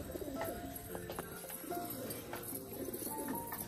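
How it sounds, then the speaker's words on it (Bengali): A pair of pigeons cooing softly nearby, low throaty calls recurring over steady outdoor background noise, with a few faint chirps mixed in. "আর আজকে কিন্তু একজোড়া গোলাপ পায়রা এসছে"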